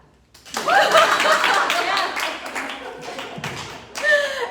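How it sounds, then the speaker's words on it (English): Audience clapping after a poetry reading at a hotel in Miami, a short burst of close claps mixed with chuckles and voices, then tapering off before a brief second swell. "Clap."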